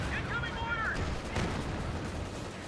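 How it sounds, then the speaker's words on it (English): Sniper fire in the World War II strategy game Company of Heroes 2, set among a noisy battle of artillery and gunfire, with sharp shots briefly standing out over continuous combat din and a commentator talking. "Sniper firing in."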